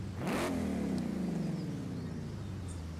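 A 2020 Ford Mustang Shelby GT500 with over 1,000 horsepower in Forza Horizon 5 revs hard, the engine note climbing quickly and then sliding down in a long, loud, close drone.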